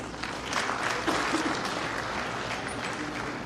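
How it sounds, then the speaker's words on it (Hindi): Audience applause at a university convocation ceremony in Udaipur, a steady, moderately loud wash of clapping that continues throughout. "कृपया तालियां बजाते रहें, उत्साहवर्धन होगा।"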